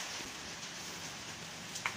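Steady rain falling outside a small house, a soft continuous hiss of drops on surfaces heard at a moderate distance with no talk.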